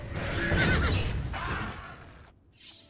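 A horse in The Elder Scrolls IV: Oblivion lets out a loud, drawn-out neigh up close, fading out before a brief final snort.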